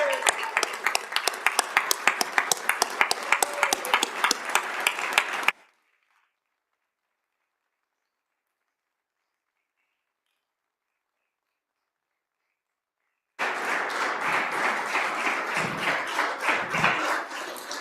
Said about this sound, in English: just a round of applause for all these senior people